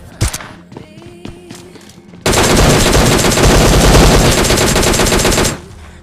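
DP-28 light machine gun firing in the mobile game PUBG Mobile Lite: a few separate loud shots, then a dense sustained burst of rapid fire lasting about three seconds before it stops, with no talking.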